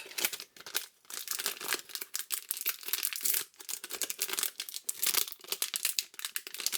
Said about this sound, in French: Les pochettes sont vraiment très difficiles à ouvrir